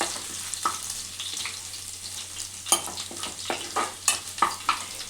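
Frying and stirring in a pan while cooking Schezwan egg fried rice: a steady sizzle runs throughout, broken by repeated sharp scrapes of a spatula against the pan, close and fairly loud, with no talking.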